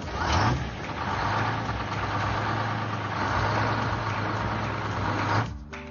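A cartoon excavator's engine idles with a steady low rumble and hum, holding even for several seconds before cutting off abruptly.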